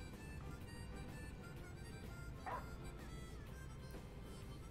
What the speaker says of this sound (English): Oh, this dog.